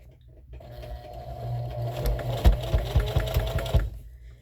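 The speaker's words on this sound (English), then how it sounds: "So I just sew." A sewing machine starts up and stitches a reusable scrubbing sponge in a close, steady run of rapid mechanical thumps, then stops.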